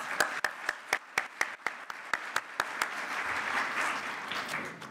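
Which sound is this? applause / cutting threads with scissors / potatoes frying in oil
applause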